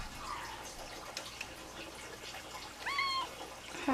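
A pet cat gives a short, rising meow near the end, heard indoors over a soft background of dripping and running water.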